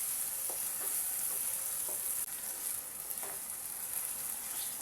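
Beaten eggs and grated coconut sizzle steadily in a hot pan, with a few soft scraping strokes as the mixture is stirred; the frying stays close and even throughout, with no voices.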